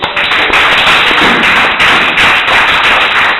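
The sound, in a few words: congregation clapping for the Lord Jesus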